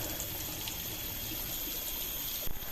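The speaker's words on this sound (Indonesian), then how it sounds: "terdapat 5 pancuran pingit yang airnya mengalir langsung ke" Water pouring from five sacred spouts straight into the Pakerisan River at the Pancaka Tirta bathing site, a soft continuous rushing and gushing wash heard alone at low level.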